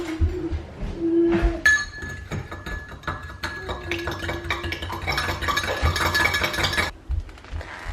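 A spoon mixing a beef stock cube into boiling water in a pint glass, with close, bright clinking against the glass that becomes a fast, continuous rattle before stopping abruptly.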